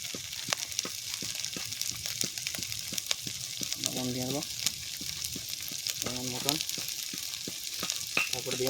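A spatula stirs mustard-poppy paste with ginger-garlic in a hot frying pan, giving a continuous sizzle with soft scraping strokes while someone talks intermittently over the cooking.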